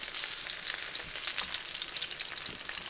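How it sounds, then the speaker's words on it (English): A steak sears in a hot pan just after being flipped, giving a dense, even sizzle that stays loud and close for the whole stretch, with no voices. "I'm going to flip my steak."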